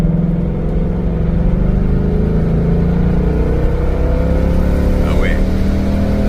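A Ford Mustang V8 5.0L in sport mode builds a loud, steady engine drone that rises gradually in pitch as it accelerates, heard from inside the cabin with a brief voice near the end.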